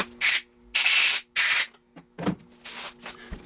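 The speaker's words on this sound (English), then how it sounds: "I'm going to run over to the air compressor real quick and blow this out" An air compressor nozzle blasts air through a small check valve from a Thetford Porta Potti 155 camping toilet, three loud hissing bursts in quick succession followed by softer handling noises.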